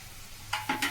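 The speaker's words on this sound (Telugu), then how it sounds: "దొండకాయ ఫ్రై డీప్ ఫ్రై చేస్తున్నాను" Ivy gourd (tindora) being deep fried in a pan, with a low steady oil hiss that breaks into three brief, close, bright sizzling bursts in quick succession toward the end.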